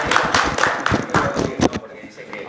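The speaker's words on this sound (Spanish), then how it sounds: "Estamos preparados ya para recibir a nuestro invitado con un fuerte aplauso" A studio audience claps to welcome a guest onto a TV program, the clapping rhythmic and fairly close, with voices mixed in, then thinning out near the end.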